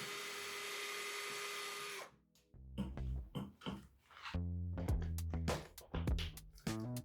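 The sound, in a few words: screwdriver removing e-bike battery pack cover bolts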